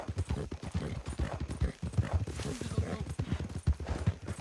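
Horse hooves clip-clop steadily in the video game Red Dead Redemption, a quick, even trotting rhythm of close, hard knocks running throughout at moderate volume.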